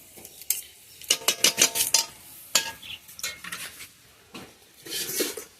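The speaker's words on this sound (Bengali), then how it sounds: "চাউমিনটা দেখো আমি খুব সুন্দর করে খুব ভালো করে মিশিয়ে নিলাম।" A utensil scrapes and clanks against a pan while chow mein with egg is tossed and mixed, a quick burst of repeated metallic strokes followed by slower scattered scrapes, close and clear with a faint sizzle underneath.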